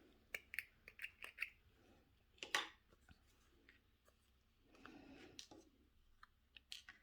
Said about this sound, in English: So now I'm going to cut these 2 apart.